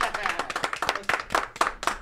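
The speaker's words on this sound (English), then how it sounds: "We stand up and we clap in honor of the State of the Union." A few radio hosts in a studio clap in honor of the State of the Union, producing irregular, close, sharp hand claps mixed with bits of their voices.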